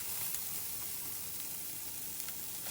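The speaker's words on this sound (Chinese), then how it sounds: "先把洋葱丝炒香" Shredded onion stir-fries in a hot wok while Singapore-style fried rice noodles are prepared, a quiet, even sizzle and hiss throughout with no voices.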